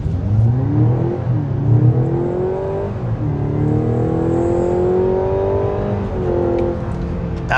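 A Mazda CX-70 hybrid SUV accelerates hard from a standstill, its engine note rising loudly through repeated upward sweeps as it gains speed, with a brief dip between surges.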